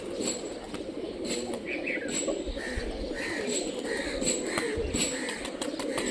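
Rajshahi giribaj pigeons coo and call repeatedly, soft throaty coos and a few chirps close by over a steady background hum.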